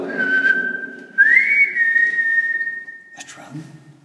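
Someone whistles in a tunnel at an old fort, a sustained tone that slides upward and holds for about three seconds, then stops. Brief rustling and faint background sounds follow.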